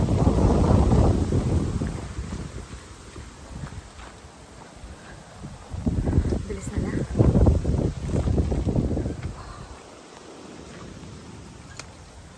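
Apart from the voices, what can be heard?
strong wind on mountain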